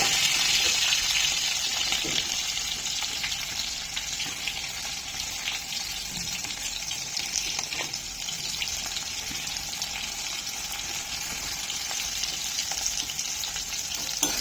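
Fish pieces fry in hot oil in a pan for macher jhal, giving a loud, continuous, close sizzle with occasional small pops and faint stirring scrapes. The sound stays even throughout, and no one speaks.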